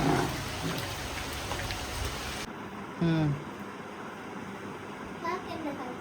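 Heavy rain pours in a dense, steady hiss that is loud for the first couple of seconds, then softer, with voices, including a child's, talking over it.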